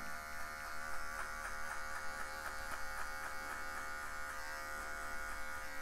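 Electric hair clipper fitted with a 1.5 guard buzzes steadily and close up while fading afro hair from longer to shorter, with a constant motor drone that stays level throughout.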